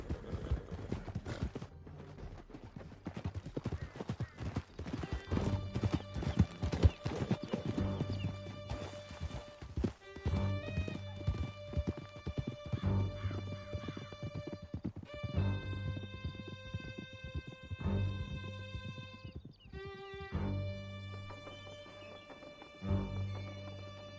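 Horses gallop hard in Red Dead Redemption 2, a loud continuous clip-clop of hooves with whinnies, layered over a steady game music score and no talk.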